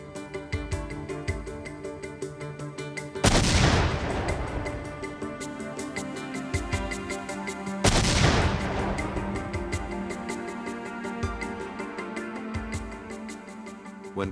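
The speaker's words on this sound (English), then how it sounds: "Specialists recreated and detonated the bombs." Recreated pipe bombs detonated by specialists: two separate loud blasts several seconds apart, each a sharp boom that trails off, under steady background music.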